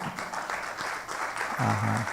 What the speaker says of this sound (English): Let's clap a bit more properly.